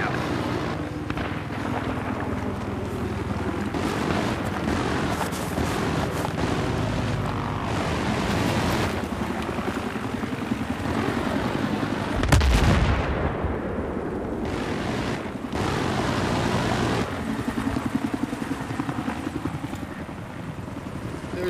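In the video game Battlefield 3, a helicopter's continuous rotor roar dominates, broken by heavy booming blasts and bursts of fire, loud and close, with a brief voice in between.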